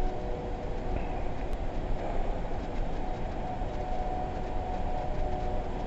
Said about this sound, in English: Hearing that train noise again.